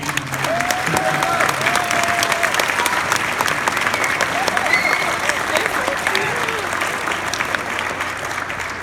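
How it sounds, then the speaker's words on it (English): A crowd applauds steadily at a physician of the year presentation, with sustained clapping and some cheering and chatter mixed in throughout. "let's give him a round of applause"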